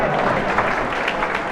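A crowd applauds in a steady, dense wash of clapping lasting throughout, moderately loud and fairly close.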